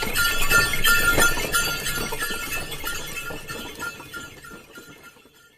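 Jingling bells and clopping hooves of a bullock cart rolling along nearby, the rattling rhythm slowly growing fainter.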